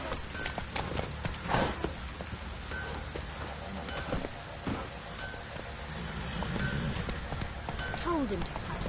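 Roach, a horse in The Witcher 3, clip-clops along at a steady walking pace close by, hooves thudding over a wet, rainy backdrop while a voice speaks briefly near the end.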